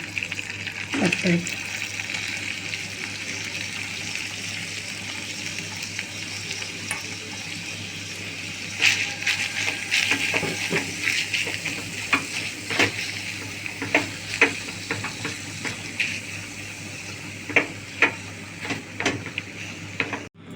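Drained chhana cottage cheese cooks in ghee in a pan, a soft continuous sizzle broken by repeated scraping and clinking stirring strokes that grow busier toward the end.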